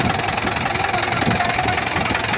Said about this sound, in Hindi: देखो इंजन है इसमें 4 सिलेंडर